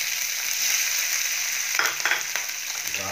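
Cumin seeds, green chillies and capsicum sizzle loudly in hot ghee, a steady close hiss broken by a few sharp crackles and spatters toward the end.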